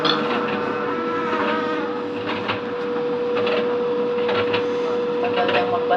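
A bottle recycling machine slowly scans deposited bottles, giving a continuous mechanical whir with a steady electronic hum and faint rattling pulses, close and constant throughout.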